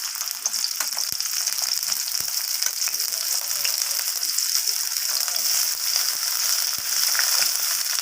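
Sliced onions fry in mustard oil in a wok, giving a steady, close, crackling sizzle with scattered pops and spits throughout, with no talking over it.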